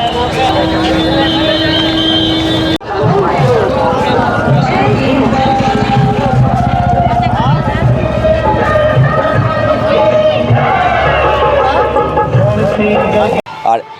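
Dense crowd noise at the Maha Kumbh Mela fairground in Prayagraj, a continuous loud wash of many voices, movement and bustle with someone talking over it throughout, cutting off sharply near the end.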